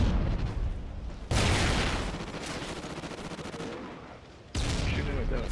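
Dense video game gunfire roars in rapid, continuous bursts, loud and close, with sharp cut-in onsets and heavy rumbling fusillade texture throughout.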